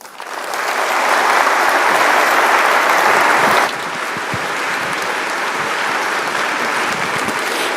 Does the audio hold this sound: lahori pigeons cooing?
no